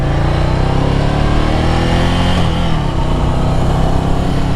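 An air-cooled Ducati Scrambler 800 Café Racer motorcycle is ridden with its engine droning loud and close. The steady harmonic roar shifts pitch midway, dipping as the rider changes speed, with no voices present.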